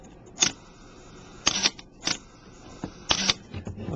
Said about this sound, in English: I'll let you see the shutter working from this angle.